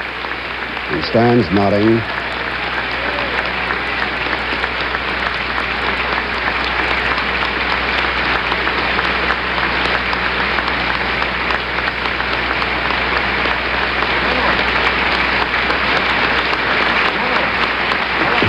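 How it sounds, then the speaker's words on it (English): Long, dense applause from a crowd at a 1967 joint meeting of Congress for General Westmoreland, loud and sustained throughout, with a brief voice near the start. "Prolonged applause for General Westmoreland."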